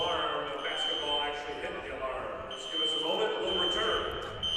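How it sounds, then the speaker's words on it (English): A fire alarm, set off by a basketball striking it during a men's college basketball game, sounds with a steady high-pitched tone, ringing through a gym while people talk. "A basketball hit the fire alarm."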